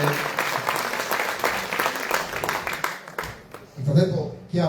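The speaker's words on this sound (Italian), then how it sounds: "Un applauso ancora a Giovanni Cosso" An audience applauds a singer-songwriter at a live music showcase on stage. Steady, dense clapping fills most of the stretch, then thins out as a voice begins speaking near the end.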